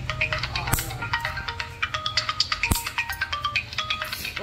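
A mobile phone ringtone chirps in a quick repeating electronic pattern of bright beeping notes, fairly close and steady, with a couple of sharp knocks and no talking.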